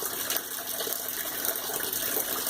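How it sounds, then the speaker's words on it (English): Steady rushing water pours continuously, a full bright splashing wash like a small waterfall, close and unbroken. "watching the waterfall."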